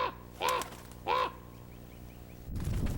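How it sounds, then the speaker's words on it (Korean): A crow drawn to bait on a freezing day in Mongolia gives two harsh caws about half a second apart, fairly close, followed by faint chirps and a low rustle. "까마귀의 시끄러운 울음소리를 듣고 많은 종류의 육식동물들이 모여든다."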